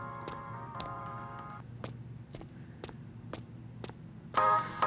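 A phone rings in the horror video game Chilla's Art Karaoke, a repeating electronic ring over a low hum with sharp ticking clicks between rings, ending in a louder tone burst.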